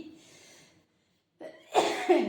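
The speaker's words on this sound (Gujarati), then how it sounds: "મરચા બળ્યા ઉધરસ આવી" A short burst of harsh coughing caused by burnt chillies, after a brief quiet gap, loud and close, with a couple of rough hacking bursts.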